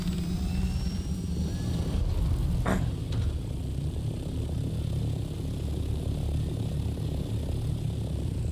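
An aircraft flies in the video game Dune Awakening, holding a steady, droning engine hum from start to finish with a brief whoosh early on and no voices over it.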